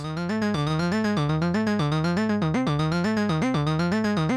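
An Angelspit Kaos synthesizer sequence run through a slew limiter loops a bright buzzy pattern whose pitch glides smoothly up and down between notes rather than stepping, continuous and steady throughout.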